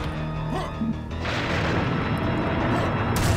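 Cannon fire in a medieval-themed video game lands as a deep booming crash followed by a sustained rumbling roar of debris, loud and close.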